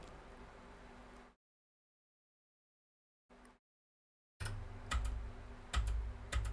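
Fingers tap a computer keyboard in quick, irregular bursts of sharp, close clicks after a stretch of near silence.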